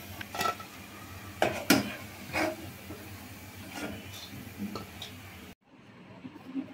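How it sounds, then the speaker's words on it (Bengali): Fried palm-fruit pitha is lifted out of hot oil in a pan, with a few scattered clinks and scrapes of a utensil against metal over a soft background hush that drops away near the end. "এখন আমি এই পিঠাটা উঠিয়ে ফেলবো। তেল ঝরিয়ে উঠানো হবে।"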